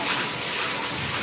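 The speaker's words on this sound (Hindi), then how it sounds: "ये शानदार बारिश स्टार्ट हो गई है फुल।" Heavy rain pours steadily outside a home with a garden of plants, a dense, continuous rushing wash of water close by, with no breaks over the short stretch.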